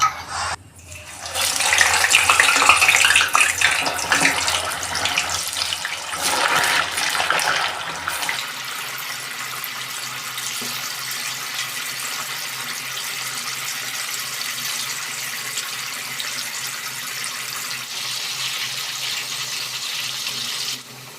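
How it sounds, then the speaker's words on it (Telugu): Banana slices for banana pakoda drop into hot oil in a pan and sizzle with a loud, steady hiss that surges early and then settles into a continuous frying crackle. "ఆయిల్ బాగా మరిగిన తర్వాత కట్ చేసినటువంటి అరటిపళ్ళు వేసుకుందాం."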